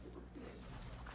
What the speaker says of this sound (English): There's pigeons everywhere.